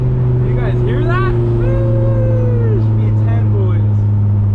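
A loud V10 engine in a Dodge Viper droning steadily inside the cabin, its pitch sweeping up and down as it revs, with a voice talking over it.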